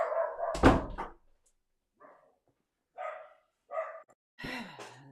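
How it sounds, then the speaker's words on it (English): A dog barks inside a house, reacting to someone moving around: a loud close bark near the start, then several shorter yips and woofs spaced across the remaining seconds, with quiet gaps between them. "They heard someone else in the house moving around, so decided to bark."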